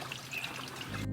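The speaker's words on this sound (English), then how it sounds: "It's filling up, and then it'll start watering each of these cubes" Water pouring into the reservoir of a five-tier Greenstalk vertical planter, a faint continuous stream that is brief and low in level, with no talk.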